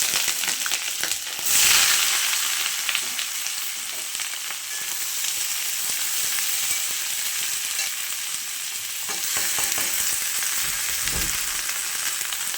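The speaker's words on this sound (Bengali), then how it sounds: "কড়াইতে তেল দিয়ে দিয়েছি, তেলটা গরম হয়ে গেছে। এবার আমি দিয়ে দেবো সবজিগুলো দিয়ে দিচ্ছি" Vegetables fry in hot oil in a wok, a steady sizzling hiss with occasional stirring clatter, heard without any talking.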